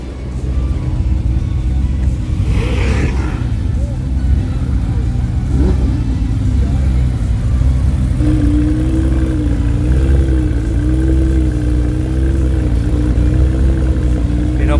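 A sports car engine at a Cars & Coffee Manila meet runs loud and steady with rising revs and wavering pitch, under crowd chatter and nearby talk.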